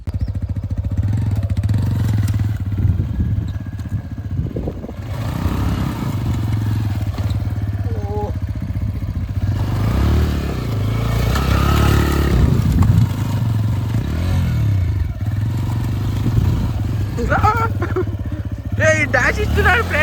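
A motorcycle doing a burnout and spinning in loose dirt, its engine revving and rising repeatedly with rough clatter. Someone talks over the engine noise through much of the clip.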